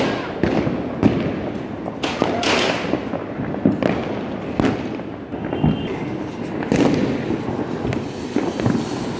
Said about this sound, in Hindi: चलो फोड़ो, देखती हूँ आप कैसे फोड़ते हो पटाखे